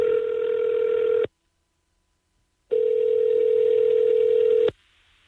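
A steady telephone line tone sounds twice during a radio phone call, each time loud and unbroken, with a short silent gap between the two bursts and a faint hiss after the second.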